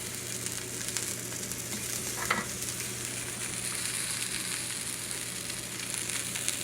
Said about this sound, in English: we're going to call that a sear